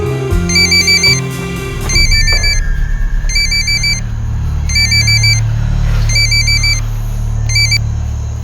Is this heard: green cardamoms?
no